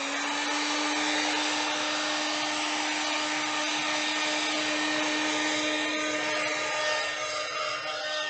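A hair dryer blows steadily while drying a painted mandala, giving a constant close whoosh with a steady hum that runs unchanged throughout and no speech.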